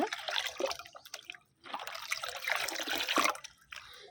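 Liquid plant fertilizer being stirred into water for flowering plants, a close, steady wet swishing and trickling that runs in bursts with a short pause midway.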